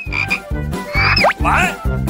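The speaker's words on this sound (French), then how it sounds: "Mais qu'est-ce que je dois faire avec une grenouille?" A frog croaking, loud and close, in a steady run of five rhythmic throaty croaks spaced about a half second apart, with some brighter chirping and squeaky sounds mixed in between.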